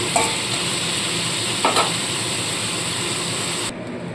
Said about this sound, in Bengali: চিংড়ি মাছগুলো মোটামুটি ভাজা হয়ে গেছে খুব বেশি কড়া কিন্তু চিংড়ি মাছ ভাজতে নেই